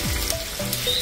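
Prawns sizzle and crackle in hot olive oil, a steady close frying hiss throughout a brief moment.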